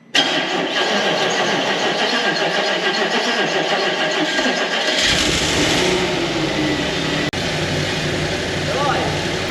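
An Audi RS4 engine cranks over briefly, then catches and roars to life about halfway through, settling into a loud, steady running rumble close by.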